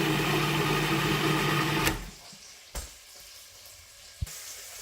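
A food processor whizzing onions and jalapeno, a loud steady whirring hum that cuts off after about two seconds, followed by a few soft clunks in near quiet.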